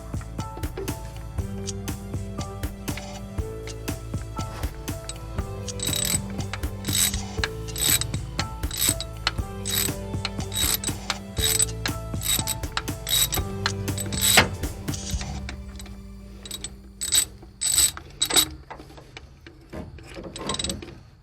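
A socket ratchet clicks steadily while being turned on engine bolts, with dense, rapid pawl ticking running through most of the stretch, close and fairly loud, thinning into separate bursts near the end.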